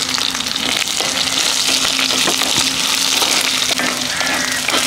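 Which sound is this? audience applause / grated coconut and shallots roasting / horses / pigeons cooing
grated coconut and shallots roasting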